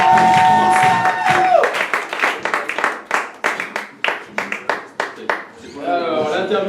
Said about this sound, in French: je vous demandais la tonnerre d'applaudissements pour la conférence de presse